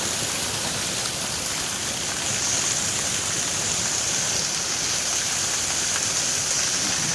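Vera Falls in Malinao, Albay, a waterfall pouring in a steady, loud broadband rush of water close by, constant and unbroken with no voices.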